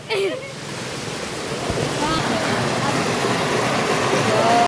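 Water rushing strongly through a canal near Athirappilly, a loud, continuous broadband roar that swells slightly and holds steady close by, with no voices.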